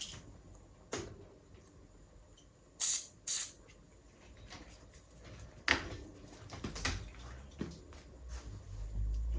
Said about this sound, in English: I'm just going to WD-40 it and then I can wipe it off later